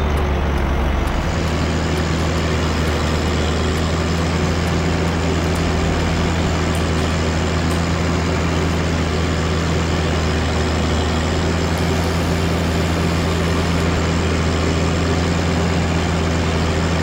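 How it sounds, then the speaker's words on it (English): A tractor engine in Farming Simulator 17 drones loudly and steadily, a constant low hum with tonal bands that starts up just after the opening second and holds for the rest. "I know this tractor's a bit loud, but I don't see a point in turning it down"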